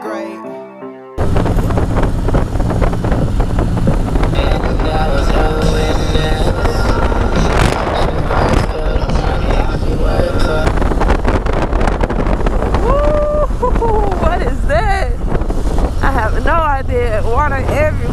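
A 2019 Harley-Davidson Road Glide fitted with a Klock Werks windshield, ridden on the road: after a quiet first second, a loud, steady roar of engine and rushing wind fills the rest, with a few brief tonal chirps near the end.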